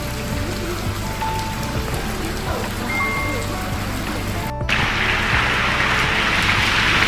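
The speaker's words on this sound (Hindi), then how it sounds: "तो आप देख सकते हो कैसे रेन हो रही है ज़ोर ज़ोर से" Steady heavy monsoon rain pours down in Saharanpur, India, hissing loudly throughout, with a sudden shift to an even denser, brighter downpour partway through.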